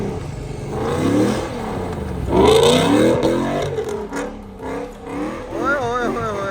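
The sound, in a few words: Mazda RX-8 drifting on night track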